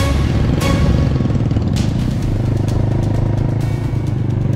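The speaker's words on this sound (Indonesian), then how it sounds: "akan melanjutkan perjalanan menggunakan motor untuk menuju ke Dusun Pantan Kriku" A motorcycle rides a village road in Pantan Sinaku, Aceh, Indonesia, heading toward a red-dirt track. Its engine drones loud and close in a steady, unbroken hum for the whole stretch, with no talk.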